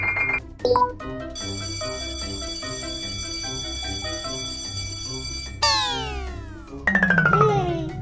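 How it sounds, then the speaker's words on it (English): An electronic doorbell-style chime rings out in a sustained melodic tone, followed by sweeping bright tones near the end, with no talking, in a Peppa Pig cartoon. "Outside, Daddy Pig presses the doorbell again."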